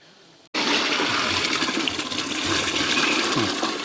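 A steady, loud rush of water pours continuously after a brief quiet start, splashing into a cooking pot outdoors for boiling pasta.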